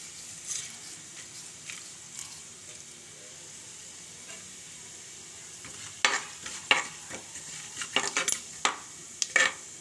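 Mustard seeds and cumin splutter in hot oil, a soft sizzle under scattered crisp pops that grow denser and louder toward the end, with a few utensil clinks against the pan.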